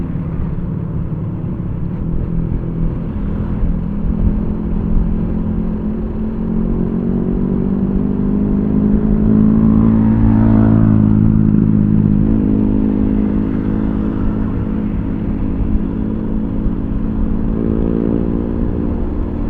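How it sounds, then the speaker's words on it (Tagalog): Big motorcycles ride behind on a road, heard as a steady loud engine drone with rumbling wind noise and a swelling pass in the middle, continuous throughout. "mga big bike sa likod natin mga lodi"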